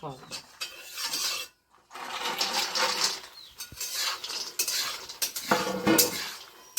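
Dried soybean chunks frying in oil while a utensil stirs and scrapes against the pan, giving repeated close metallic rasping strokes with short pauses and only a faint sizzle underneath.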